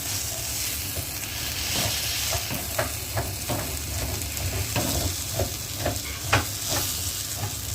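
Banana flower pieces pressed down while frying in oil in a pan, a steady close sizzle broken by a series of sharp scraping taps from the spatula pressing and turning them.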